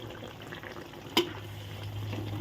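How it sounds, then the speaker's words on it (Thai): Thai eggplant being stir-fried with crispy fried catfish in a pan: steady low sizzling and soft stirring scrapes, with one brief sharp clatter midway, close and alone. "ผัดไปผัดมาจ้ะเนาะ"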